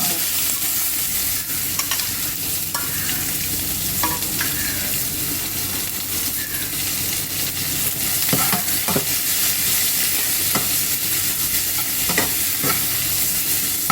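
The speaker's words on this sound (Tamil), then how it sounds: "சீரகம் பொறிஞ்ச உடனே அதில் போட்டுக்கலாம் சீரகம் பொரிஞ்சிச்சு" Cumin seeds and dried red chillies spluttering in hot oil for white pumpkin sambar, a dense, steady sizzle over fourteen seconds punctuated by scattered pops and spoon scrapes.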